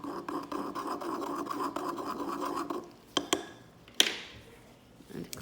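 Colored acrylic powder mixture is ground with a steady rhythmic scraping that repeats quickly for a few seconds, then gives way to a few sharp taps and softer rubbing.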